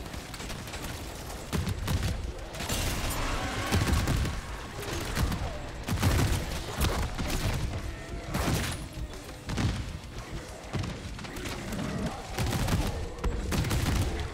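Heavy gunfire in a zombies video game, a dense barrage of booming shots and thumps that continues throughout, loud and up close.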